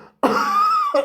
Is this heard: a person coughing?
yes